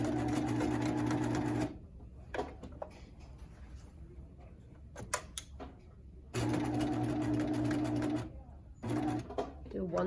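A sewing machine stitches an apron strap in two loud, rapid bursts of mechanical whirring, close up, separated by quiet pauses with soft handling clicks and a brief final run.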